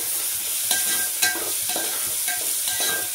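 Khichdi with tomatoes stirred in a hot cooking pan: a steady close sizzle with a spoon scraping and knocking against the pan in a loose, repeated rhythm, no talking.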